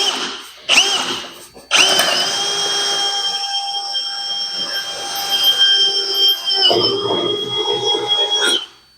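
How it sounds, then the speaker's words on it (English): A fresh drill bit bores holes during a Factory Five Racing Roadster build, giving a sustained, high, close whine that briefly cuts out and restarts between holes. "Amazing how much better it works with a new drill bit, huh?"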